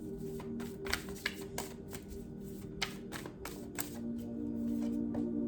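Tarot cards being shuffled and drawn: a run of quick riffling flutters and soft snaps close by, fairly quiet, with no speech.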